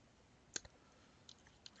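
A few quiet, isolated clicks of a computer keyboard being typed on, faint and sparse with near silence between them.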